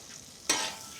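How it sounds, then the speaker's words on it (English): Butter hitting a hot Blackstone griddle outdoors, giving a sudden bright sizzle that holds steady and close, with a second burst at the very end. "Throw some butter down on the grill."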